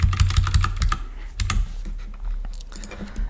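Computer keyboard typing while lines of Python code are erased, close clicks and a few heavier key thumps in uneven bursts, loud and uninterrupted by speech.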